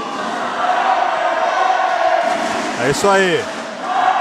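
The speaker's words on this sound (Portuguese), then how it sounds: "E a torcida vibrando, a torcida querendo aí que o Jorginho aí desça a mão" A crowd at a kickboxing fight roars and cheers steadily in an arena, with a commentator talking over the noise and a brief whistle-like rise near the end.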